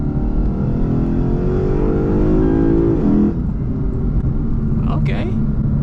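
Lexus IS F engine with aftermarket intake roaring loudly on acceleration, the pitch climbing steadily before dropping away around a downshift, with lower rumble continuing afterward.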